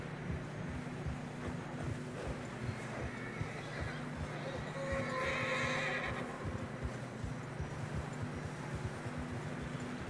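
A horse whinnies once in the middle of a video game scene, over a steady low rumble and wind-like noise, with faint clopping beneath, in fresh snow.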